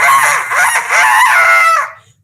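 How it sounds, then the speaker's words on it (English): A single loud, close rooster crow rings out for about two seconds, rising and wavering before cutting off into silence. "For you see, the creature was a rooster,"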